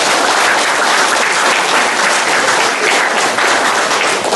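Strong applause from attendees at a provincial multisectoral meeting of local authorities in Alto Huallaga, a dense continuous clapping that holds steady for the whole stretch.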